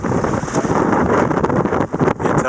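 A boat engine runs on open ocean water where people swim with large sharks, a steady broadband churning rumble with wind buffeting the microphone, close and loud throughout with brief dips near the end.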